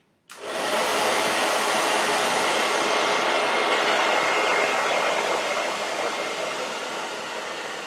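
Hair dryer switches on abruptly and blows steadily over a watercolour painting, a loud, close, continuous whooshing roar that holds for the rest of the stretch with no talk.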